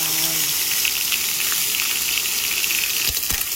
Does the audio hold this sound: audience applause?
no